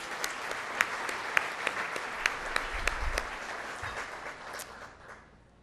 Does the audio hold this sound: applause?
yes